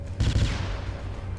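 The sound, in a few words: cannon artillery firing in video game Galactic Junk League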